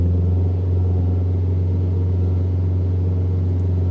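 A Proton Saga with a 1.5L I-GT engine idling with the air-con off, giving a steady, even low hum with no revving, close and constant throughout.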